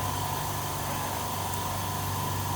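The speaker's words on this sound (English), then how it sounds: "So we'll just wait for the compressor to be full again" Air compressor running steadily to refill its tank during a tire inflation job, a continuous close mechanical hum with a broad hissing noise on top, unbroken and at an even level throughout.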